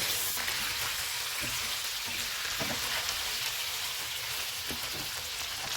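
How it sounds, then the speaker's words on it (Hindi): Steady, dense sizzling of chicken frying in hot oil over a high flame, close and continuous with faint crackles throughout. "ऑयल गर्म हो गया, इसमें चिकन डालेंगे।"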